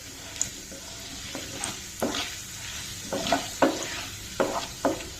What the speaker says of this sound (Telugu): పోపు కూడా వేగిపోతుందండి